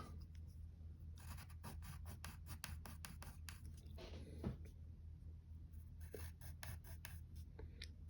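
A pencil drawing a Superman S logo on paper, giving soft rapid scratchy strokes in quick bursts, close and quiet, with no talking.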